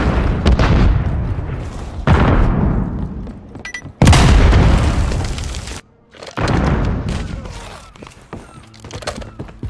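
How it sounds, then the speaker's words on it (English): Loud booming bursts from a stun grenade and gunfire in Call of Duty: Modern Warfare 3 team deathmatch, several heavy blasts with a sharp one near the middle, dense with game effects. "Stun grenade out!"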